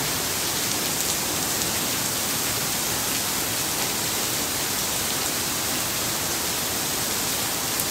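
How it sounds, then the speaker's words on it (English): Steady rain pouring down in Singapore, a dense even hiss of drops striking surfaces, continuous and fairly close without pauses, no voices. "This rain is falling."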